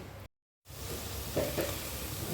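Chopped onion dropped into hot oil for khichuri, giving a steady close sizzle after a brief silent gap, with a couple of brighter crackles partway through.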